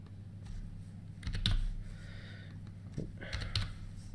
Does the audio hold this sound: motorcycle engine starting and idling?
no